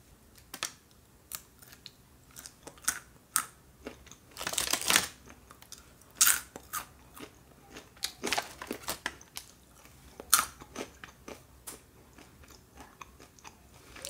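Spicy fried mixed nuts, peanuts, almonds, cashews and grilled pistachios with a crunchy coating, crunched and chewed up close, sharp irregular cracking bites and short chewing bursts in a quiet room.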